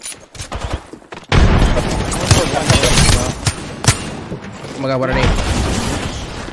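A frag grenade goes off in the shooter game Apex Legends, a loud booming blast followed by a dense burst of gunfire and crackling, with people talking excitedly over it.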